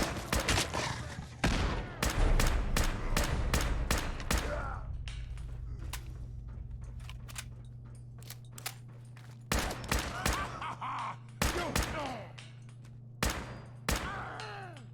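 Gunfire from a silenced bolter weapon in Fallout 4, with dense bursts of rapid shots early on, a quieter stretch, then more clusters of sharp shots over a low steady hum, with a voice occasionally heard.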